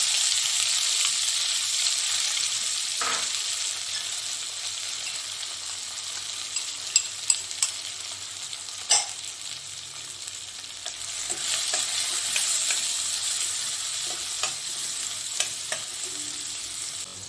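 Chopped onions fry in a pan for a beef pepper roast, a long steady sizzle close by, dotted with occasional clicks and scrapes of a stirring spoon; no talking.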